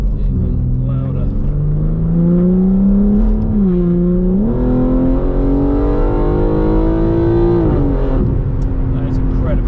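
A BMW G81 M3 with a Stage 2 custom exhaust and opened exhaust valves accelerates hard in fourth gear, a loud, sustained engine drone climbing steadily in pitch with a brief dip partway through.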